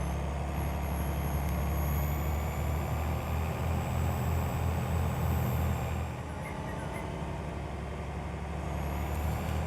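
A truck in Farming Simulator 22, on the Kansas 16x map, drives along with a steady, loud engine drone and rumble throughout, a brief hiss like an air brake near the middle, no talking.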